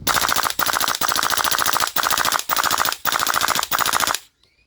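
Airsoft rifle fitted with an HPA adapter fires full-auto bursts, a loud rapid mechanical chatter of BBs cycling in six sustained strings separated by brief pauses, ending abruptly in silence.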